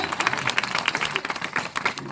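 A church congregation clapping at a service, with fast, rhythmic clapping that keeps going as a lively, loud patter throughout.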